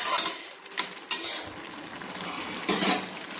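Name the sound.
stirring chillies and greens in a cooking pan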